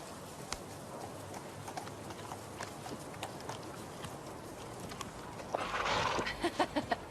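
A horse's hooves clip-clop in a steady patter near a farm setting, and around the sixth second the horse gives a brief, fairly loud neigh before the hoofbeats resume.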